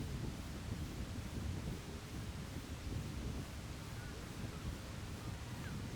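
A gust of wind at an outdoor baseball game blows across the microphone as a broad, steady rumbling roar that lasts the whole stretch with no clear break.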